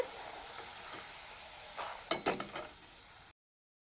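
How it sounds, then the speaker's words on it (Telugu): Puffed rice frying in a pan with a steady hiss and sharp crackling, a few louder stirring clatters near the middle, close and without talk, ending abruptly in silence. "చూడండి ఇట్లా చిటపటలాడంగానే తీసుకోవాలి"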